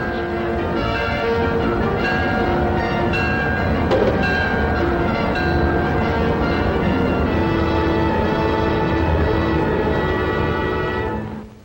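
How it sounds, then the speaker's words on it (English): An electric train speeding under electrical power in 1942 rumbles along steadily with a constant mechanical roar and clanking, a bell-like ringing tone running through it, loud and continuous throughout. "Now the Clipper goes speeding under electrical power."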